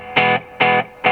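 A guitar's dry signal runs through a Korg SE-300 stage echo unit: three short, bright, distorted note bursts repeat at an even rhythm, each cutting off cleanly with no audible trailing echo.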